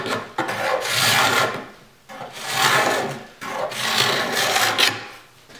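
A hand scraper shapes wood for ogee bracket feet in three long rasping passes, each a loud, close, scratchy stroke separated by short pauses, with no talking.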